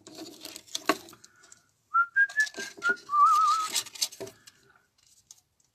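A person whistles a song, a short wavering melodic line of a few sustained notes, close and fairly loud, with faint background noise and a soft thump before it.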